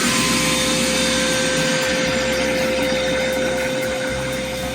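A shop vacuum with a soft bristle brush attachment sucks up sanding debris from a butcher block countertop, a steady loud close whine and roar with slight rattling as dust is pulled in.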